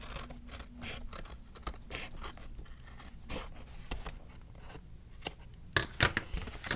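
Scissors trimming a white paper edge on a handmade four-flap boxfold journal, giving a run of light snipping and scratchy cuts with a few sharper clicks near the end, close and fairly quiet with no talk.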